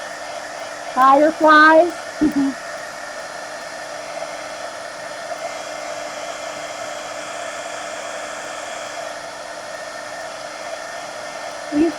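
Hair dryer blowing steadily on paint splatters in a mixed media art journal, a constant loud whooshing hum running the whole time, with someone briefly speaking over it near the start.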